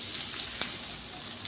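Sago pearls (sabudana) tipped into hot ghee in a pan for sabudana khichdi give a steady, close sizzle, with a brief sharper burst midway.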